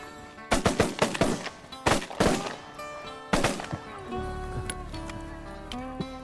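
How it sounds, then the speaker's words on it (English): Shotguns fire at ducks and geese overhead during a hunt in Alberta. Several rapid volleys of loud, close, overlapping blasts come in three clusters, followed by quieter ambient sound and some talking. "Good shooting, boys."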